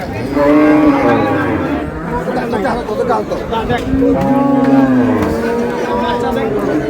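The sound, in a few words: cow mooing at a cattle market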